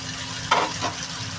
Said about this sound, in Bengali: দেখো এই পিঠটা কিন্তু বেশ ভালোই ভাজা হয়েছে